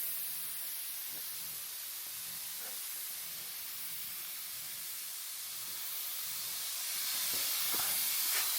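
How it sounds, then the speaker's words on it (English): A steady, faint hiss of a paint spray gun applying clear coat to a car, continuous airy spraying that swells slightly louder near the end. "Just pull it hard enough to spray paint."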